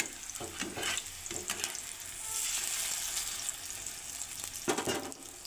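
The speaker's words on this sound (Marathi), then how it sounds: "मीडियम गॅसवरती आपण ह्या टिक्क्या सॅलो फ्राय करून घेणार आहोत." Chicken kabab tikkis shallow fry on a tawa over medium heat, giving a continuous close hiss and sizzle, with occasional scraping taps from a spatula and no talk.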